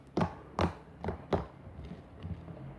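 Homemade slime clicking as it is squeezed by hand, four crisp close clicks in the first half followed by softer faint squishes, with no talking.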